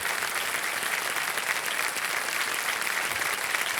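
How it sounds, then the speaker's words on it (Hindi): Studio audience applause on the TV quiz show Kaun Banega Crorepati as a contestant wins prize money, a dense even wash of clapping, continuous and moderately loud with no letup. "और जोरदार तालियां बज जाएंगे।"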